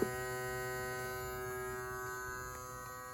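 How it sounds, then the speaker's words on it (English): A steady electric motor hum with a constant buzzing drone as its speed drops from 100% to 80% duty cycle, holding fairly even and easing slightly toward the end, with no voices. "You'll hear the motor speed dropping"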